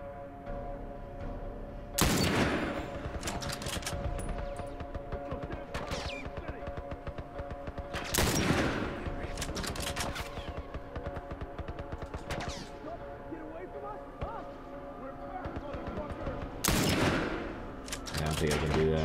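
Gunfire rattles through a shootout in The Last of Us, with three heavy blasts standing out among steady bursts of shots over nearly twenty seconds, close and loud over constant game ambience.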